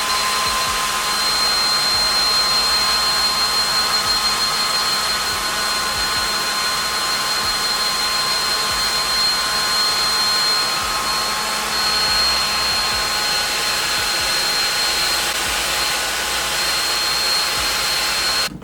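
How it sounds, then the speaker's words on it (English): Hair dryer blowing a freshly glued hair weave track dry on a wig cap, a loud steady close whoosh running unbroken for nearly twenty seconds with no talk. "you just take your hair dryer and you blow it dry"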